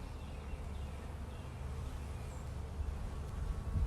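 Honey bees buzz steadily around open hive frames in a hive that has been robbed out, a soft continuous drone from many insects nearby, with no speech.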